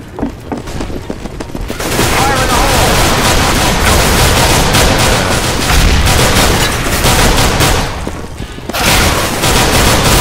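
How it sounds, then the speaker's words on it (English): Loud bursts of gunfire and explosive booms in a Counter-Strike: Global Offensive match, a dense continuous barrage with a brief lull near the end before the noise resumes. "Flashbang"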